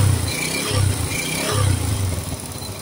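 A motorcycle engine being revved a little during an oil check, a loud close idle rising in a few short pulses of throttle over a steady rumble, no talking.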